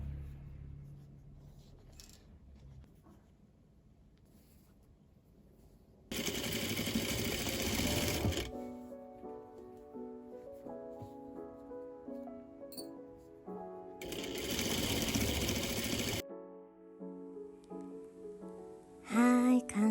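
A sewing machine stitches a patchwork noren curtain in two bursts of rapid, whirring needle clatter, each lasting about two seconds, separated by quieter handling noises in a calm room.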